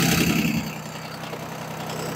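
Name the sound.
Yanmar F13D tractor diesel engine starting and idling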